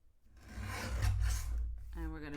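Part of a Valentine's Day card panel is cut off with a short rasping, scraping cut lasting about a second and a half, close and fairly quiet, followed by a brief tonal sound.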